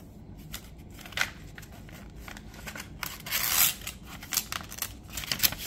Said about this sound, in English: It's an envelope inside of her envelope.